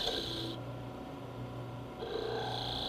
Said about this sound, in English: use the skew to finish shaping the point